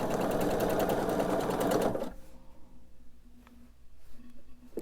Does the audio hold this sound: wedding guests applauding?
no